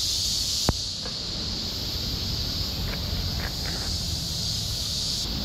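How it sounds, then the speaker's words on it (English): Cicadas in a Tokyo park at dawn, a faint, steady high buzzing drone running throughout, with a single sharp click early on and no talk. "Wow, you hear those cicadas?"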